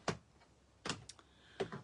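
Scissors fussy cutting around a stamped paper image, three close, crisp snips spaced roughly evenly apart with a faint extra click after the second, in a quiet room.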